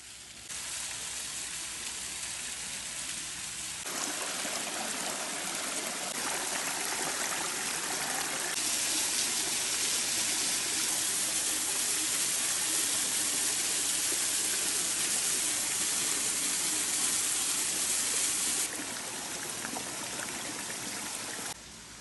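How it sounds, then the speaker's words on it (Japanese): Shiraito waterfall on Miyajima, a steady broadband rush of falling water heard close and continuous, swelling louder in the middle stretch and easing slightly toward the end. "白糸の滝です。"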